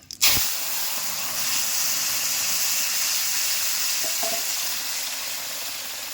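Katla fish and taro curry hits hot oil seasoned with torn bay leaf and whole cumin, bursting into a loud hissing sizzle that settles into a steady close crackle with a few faint clinks.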